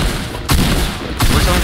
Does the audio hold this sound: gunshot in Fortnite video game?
yes